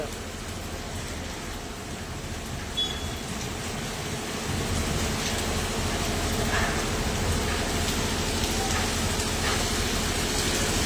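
Steady monsoon rain in Tapa Mandi keeps up a dense, even hiss throughout, swelling slightly louder midway and staying constant with no voices.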